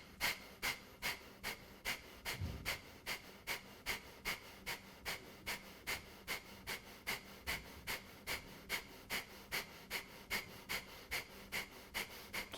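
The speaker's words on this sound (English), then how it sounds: "We'll take breath of fire here." Rapid, rhythmic breath-of-fire yoga breathing in a solar plexus chakra class, sharp nasal exhales pulsing steadily about three times a second, close and clear with no talk over it.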